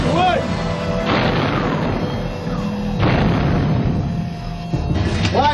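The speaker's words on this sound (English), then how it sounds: "Hey, fire." Tank main gun blasts during a live-fire exercise, two heavy booms about two seconds apart ringing out amid continuous engine rumble and radio chatter, with voices talking over the noise.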